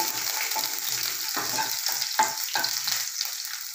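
Ginger and green chillies fry in hot oil with garlic while being stirred, making a steady bright sizzle broken by several scraping stir strokes, close and continuous with no talking.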